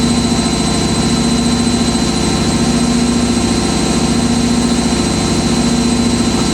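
An Indesit WIDL102 washer dryer spinning at 800 RPM on a whites prewash at 90ºC, giving a loud steady mechanical hum with a constant whine and a fine rapid pulsing, running alone without pause.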